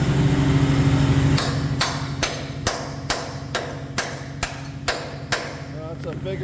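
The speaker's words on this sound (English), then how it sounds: "I think a hammer should take care of that." Eight sharp metallic hammer strikes on a Ford F250 truck bed bracket in a steady rhythm, each ringing briefly, loud and close, after a few seconds of low engine-like hum.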